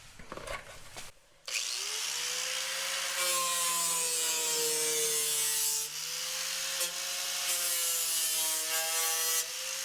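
An angle grinder with a worn 60-grit disc smooths sharp metal edges while fitting a 37-inch tire clearance kit on a 2024 GMC Sierra HD, a steady, loud, close whining grind with a slowly shifting pitch, after a brief scrape at the start.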